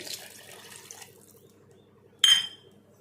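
A short burst of water splashing into a cup, over a faint background hum, then quiet.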